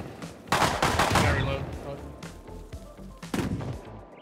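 Gunfire in the Rust video game comes in loud, close bursts of rapid shots, one heavy volley early and another near the end. Excited voices are heard between the shots.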